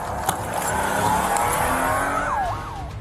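A stolen police patrol car tears away at speed, its engine roaring loud and steady close by, with a squealing, wailing tone near the end.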